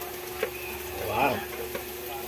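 Ginger frying in oil, a steady close sizzle with a few spatula clicks and a brief swelling hiss midway, no talk.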